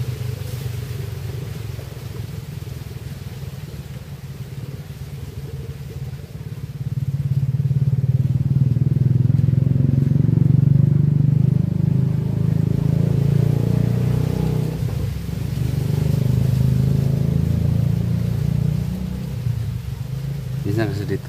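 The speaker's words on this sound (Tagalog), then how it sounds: "Yung mga sasakyan na dumadaan." Vehicles and motorcycles passing along a road, a steady low engine rumble that swells louder midway and stays prominent, with voices talking intermittently over it.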